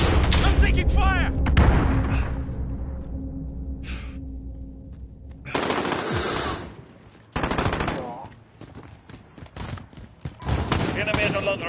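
Gunfire from Call of Duty Warzone, bursts of automatic fire and impacts that come and go, mixed with game announcer voice lines and talk.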